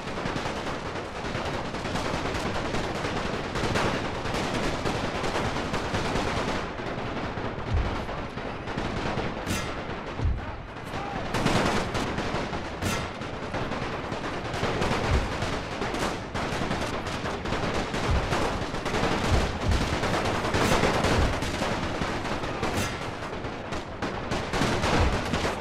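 Musket volleys crackle across a Napoleon: Total War battlefield, with dense, continuous overlapping gunshots, sharp louder reports standing out, and a steady roar of battle underneath.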